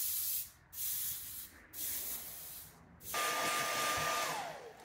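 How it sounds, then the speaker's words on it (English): Bone-coloured paint is sprayed onto a DIY glide bait fishing lure in three short hissing bursts, then one longer steady spray, close and fairly quiet. "I'm gonna mix this up. We'll start spraying."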